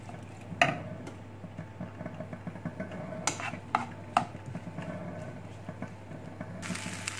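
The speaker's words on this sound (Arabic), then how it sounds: "وغادي نخلطها ونخلي حتى هي كتشحر مزيان مع هاد" Pumpkin pieces sautéed with spices are stirred in a pan, giving a faint steady sizzle broken by a few sharp spoon scrapes and clinks against the pot.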